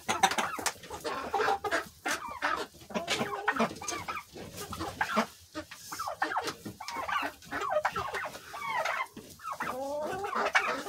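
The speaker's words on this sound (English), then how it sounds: "I don't know who was crowing or gobbling, whatever you want to call it, but one of the turkeys was." A farmyard flock of chickens and turkeys, with dense clucking and squawking calls and a turkey gobbling among them, loud and continuous throughout.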